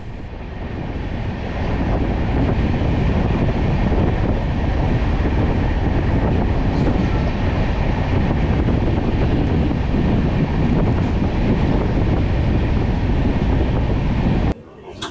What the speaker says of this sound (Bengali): পুরো জঙ্গলের মধ্যে দিয়ে ট্রেনটা যাচ্ছে, মহানন্দা রিজার্ভ ফরেস্টের মধ্যে দিয়ে।